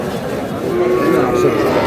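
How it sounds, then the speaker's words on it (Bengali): A Sahiwal bull calf lows at a busy livestock market, a sustained moo that swells toward the middle, with crowd murmur and voices around it. "শাহিওয়ালের ষাঁড়।"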